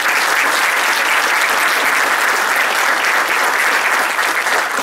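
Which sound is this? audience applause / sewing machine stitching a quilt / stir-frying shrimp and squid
audience applause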